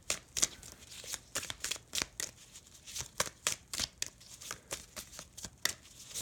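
Tarot cards are shuffled by hand in a quick run of crisp, riffling flutters and soft slaps, close and fairly quiet, with brief pauses between bursts as a card is drawn from the deck.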